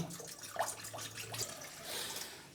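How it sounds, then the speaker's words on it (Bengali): Water poured into a cooking pot to make steam, a soft splashing trickle at close range, uneven and fairly quiet, with no voices. "তো আমি ঢেলে দিলাম ওয়াটার ঢেলে দিচ্ছি"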